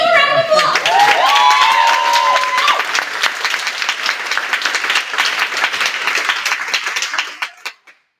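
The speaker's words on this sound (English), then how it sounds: "Give them a round of applause!" An audience gives a round of applause after a youth staged reading of The Two Gentlemen of Verona, loud sustained clapping with cheers and voices early on, then thinning and fading to a few last claps.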